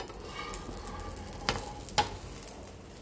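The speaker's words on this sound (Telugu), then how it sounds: "వాయిస్ రికార్డ్ చేస్తూ పక్కన దోశ వేస్తున్నాను" Batter for a dosa sizzles on a hot pan in a steady, moderate hiss, broken by a few sharp scraping clicks and taps around the middle of the clip.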